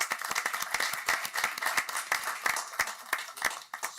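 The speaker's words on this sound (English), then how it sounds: "So we can have a round of applause for Ms. York." A round of applause from the audience at a Roanoke County school board meeting: dense, steady clapping from a roomful of people, moderately loud throughout.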